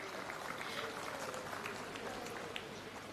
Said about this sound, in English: A huge round of applause for our former Secretary, Ministry of Panchayati Raj.